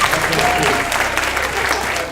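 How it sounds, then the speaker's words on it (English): A group receives a round of applause at a Lou Frey Institute webinar event: continuous, moderately loud clapping from a gathered audience, with a voice speaking over it. "let's give this group a round of applause."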